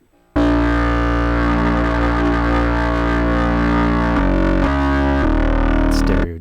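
A Virus KC synthesizer runs through a stereo distortion effect, playing a loud, thick sustained buzzing tone that shifts pitch a few times before cutting off, with no talking.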